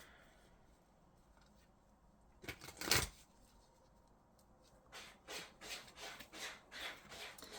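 Osho Zen tarot cards being drawn from the deck, heard as soft, close rubbing and shuffling of card stock in a quiet room, with one sharper scrape midway and then a run of rhythmic brushing strokes.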